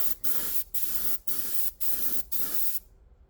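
An aerosol spray can applies a coat of chrome paint in five steady hissing bursts, each about half a second long with short gaps between them, close and loud, then silence.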